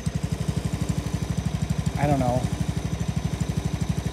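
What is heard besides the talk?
John Deere 160 lawn tractor engine running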